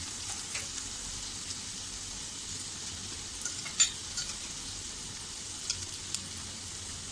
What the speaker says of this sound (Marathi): थोडंसं तेलात परतूया